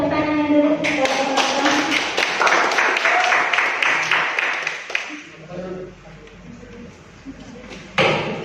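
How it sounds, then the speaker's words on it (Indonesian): Applause from a student audience at a high school student council candidates' debate, rhythmic clapping running for about five seconds, then fading into quieter room noise with a few scattered claps and a brief louder burst near the end. "Tepuk tangan dulu."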